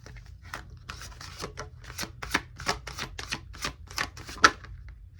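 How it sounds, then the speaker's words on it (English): Tarot cards riffle and slap in a quick, irregular series of crisp flicks, close and fairly quiet, with one sharper snap near the end. "One more shuffle"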